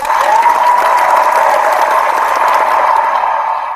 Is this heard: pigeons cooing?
no